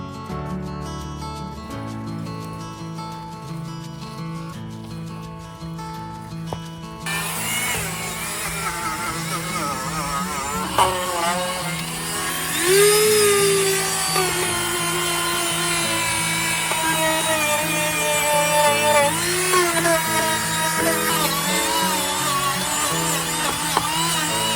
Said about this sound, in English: use a Dremel to polish it off